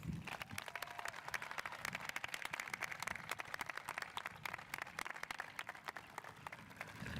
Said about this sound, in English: Audience, please join me in a round of applause for our salutatorians.